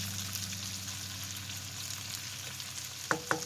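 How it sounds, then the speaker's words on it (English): Potatoes and bacon fry in a pan with a steady, quiet sizzle and crackle, and two brief sharp clicks near the end, with no voices. "I'm just going to fry up my potatoes here"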